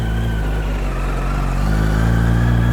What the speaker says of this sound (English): we're just going to fire the bike up